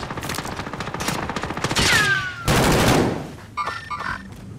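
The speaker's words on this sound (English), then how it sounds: "Taking fire! Being shot" Dense, rapid gunfire from the Call of Duty video game, with overlapping bursts and single shots rattling loudly and continuously before thinning into scattered shots near the end.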